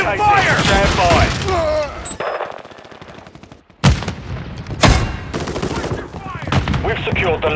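Gunfire in Call of Duty Modern Warfare 3, loud bursts of automatic fire and sharp single shots, dense at first, then sparse loud cracks and renewed rattling, with game voice callouts mixed in.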